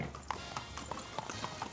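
A horse's hooves clip-clop at an even walking pace as a man on horseback approaches in a Walking Dead scene, a steady, moderately close beat over background ambience.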